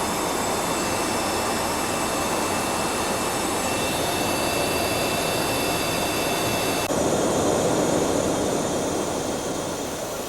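Antonov An-124 cargo jet in flight after takeoff from Gander, its engines a steady, loud, unbroken roar with a constant whine heard from inside, no talk.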